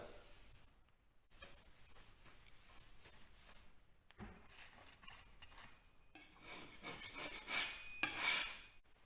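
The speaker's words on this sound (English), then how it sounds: "So just simply scrape them off. Less chance of marking the plaster." A tool scrapes loose bits off a freshly plastered wall. The faint, gritty rasping strokes come in uneven bursts and grow a little louder and harsher toward the end.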